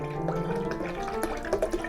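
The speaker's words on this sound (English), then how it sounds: "we're going to pour a cup of spring water" Spring water is poured from a cup into a kitchen blender, a soft, close trickle lasting about two seconds, fairly quiet with no talk.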